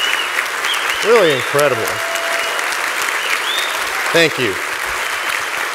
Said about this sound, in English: a huge round of applause for Cindy, for her story